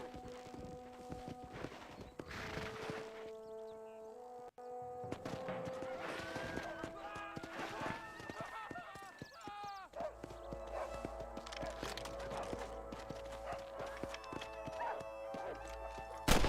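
A wild horse in Red Dead Redemption trots with rhythmic hoof clip-clops and whinnies, set against in-game music, with a voice briefly speaking.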